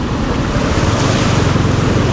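Rushing water from a fast, dangerous mountain stream roars steadily and loudly from close by, a dense broadband wash with no voices.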